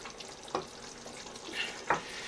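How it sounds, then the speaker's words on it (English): Chana masala of chickpeas cooking down in a deep-sided frying pan while being stirred, with a steady low sizzle and two sharp scraping strokes of the spoon against the pan. "all that remains now is to keep stirring and cooking that down"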